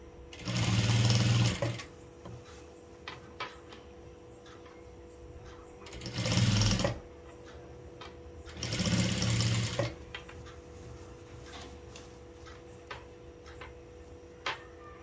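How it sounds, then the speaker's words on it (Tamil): A sewing machine stitches around a readymade top during an alteration: three separate bursts of rapid mechanical whirring, about a second each, with quiet ticks and faint handling between them. "இதை ஃபுல்லாக ரவுண்டாக அப்படி ஸ்டிச் பண்ணிடலாம்"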